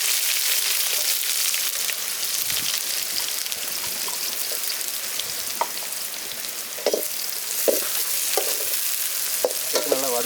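Small onions and curry leaves sauté in a pan for a Tamil fish curry, giving a continuous close sizzle with scattered spatters and faint scraping stirs.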